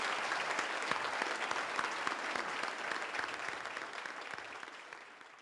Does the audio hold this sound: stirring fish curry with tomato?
no